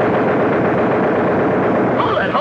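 A B-17 bomber's machine gun fires a sustained burst over heavy aircraft engine roar, loud and continuous for about two seconds with no pauses.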